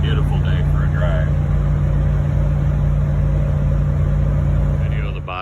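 A 1987 Toyota FJ60 with a Vortec engine cruises down a highway, its engine a steady loud drone with constant road and wind noise throughout and no audible talk.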